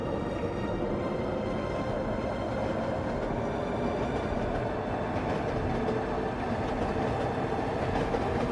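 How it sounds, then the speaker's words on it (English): A train rolls along in a video game with a continuous rumbling, clattering rail sound that stays steady and fairly quiet from start to finish. "Look, we actually got a train."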